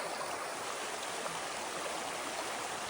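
A trailside creek on a Bear Lake hike, flowing steadily as a constant broadband rush of water, close and even throughout with no voices.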